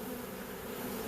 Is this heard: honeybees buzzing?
yes